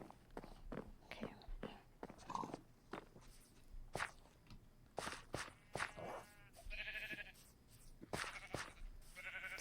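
Sheep bleating in the Minecraft video game, a few short game-animal calls rising among footsteps and scattered speech, moderately loud and close.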